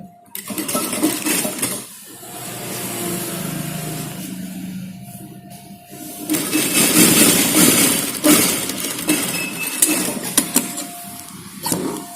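A sewing machine stitches a shirt seam in rapid bursts of close mechanical whirring, with pauses and handling clatter between runs.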